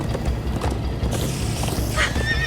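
Galloping horses in Minecraft: Story Mode, a continuous dense rumble of hoofbeats with a loud neigh rising near the end, all close and busy.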